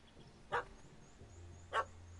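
A dog in the Witcher 3: Wild Hunt video game gives two short, sharp barks about a second apart, fairly faint over a quiet background hum.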